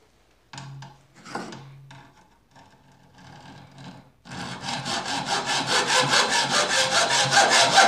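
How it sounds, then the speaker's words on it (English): Hacksaw cutting through wood, its rhythmic back-and-forth strokes loud and close and growing steadily stronger, following a few seconds of softer handling and shuffling noises. "I know I just had a hacksaw."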